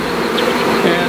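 Honey bees released outdoors at a homestead hive, a dense continuous buzzing swarm close to the microphone, steady and loud throughout.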